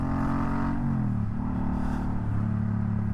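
A Suzuki Boulevard M50 V-twin cruiser motorcycle engine idles with a deep throbbing rumble, its pitch rising and falling as it is revved, close and steady throughout.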